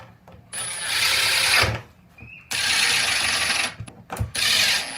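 A power drill drives screws into a wooden raised vegetable planter bed, sounding in two sustained whirring bursts with a brief pause between, close and fairly loud, followed by shorter spurts.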